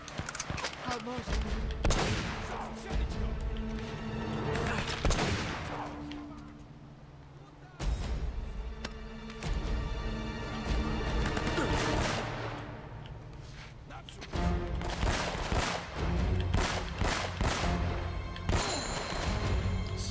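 Gunfire in the video game Uncharted: Fortune Hunter: loud, repeated bursts of shots separated by brief pauses, with a voice talking over the action.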